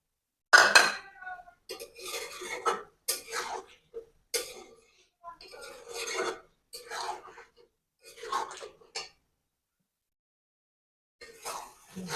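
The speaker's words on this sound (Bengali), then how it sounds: "মাংসটা আমি সুন্দর করে কষাই করে নিয়েছি" Country chicken cooked down with potatoes in a pot: a metal spoon scrapes and clinks in separate bursts of stirring, close and fairly loud, with silent gaps between strokes.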